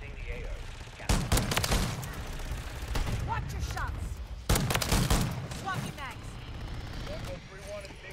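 Gunfire from a VTOL killstreak aircraft in Call of Duty: Modern Warfare 3, two heavy bursts of rapid shots over steady battlefield rumble, with scattered game effects between them.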